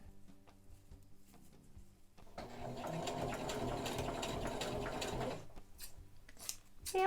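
A sewing machine runs in one steady burst of rapid stitching for about three seconds while sewing an elastic casing on thrifted clothing, close and fairly quiet, with light handling clicks before and after.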